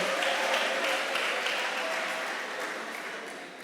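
An audience at a music and social media workshop applauds, a dense patter of many hands that holds steady and then slowly fades, with no talking over it.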